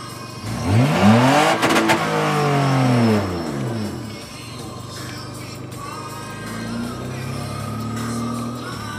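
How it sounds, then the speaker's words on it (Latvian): A car pulling a caravan accelerates hard, its engine revving up loudly and close, then easing into a steadier, quieter drone as it drives on. "Uzgāzē."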